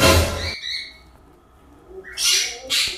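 A brown pigeon gives a few short, close, raspy calls in separate bursts, with quiet gaps between them and no talking.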